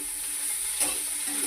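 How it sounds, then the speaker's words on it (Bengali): Grated coconut with a little turmeric fries in a pan, giving a steady, fairly loud hiss with a faint stirring scrape partway through. "এবার নারকেলটা ভাজবো।"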